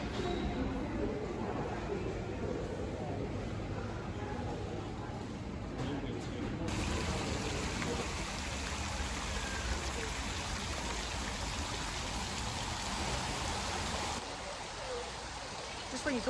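Water splashing from a fountain at an Oxford motorway service station in the UK, a steady broadband rush that runs throughout, with voices audible under it.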